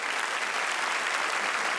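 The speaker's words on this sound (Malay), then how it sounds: "Tepukan." A crowd at a Malay language month launch event applauds in a dense, even wash of clapping, loud and steady for the whole brief moment.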